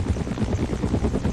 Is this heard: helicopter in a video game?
yes